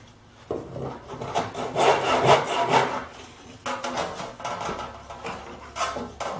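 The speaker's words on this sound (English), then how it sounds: "I've set up a stop block here together with the miter box so I can cut this" A hand saw cuts a thin wood strip held in a miter box against a stop block, giving a close run of rasping back-and-forth strokes that pause briefly midway, then resume.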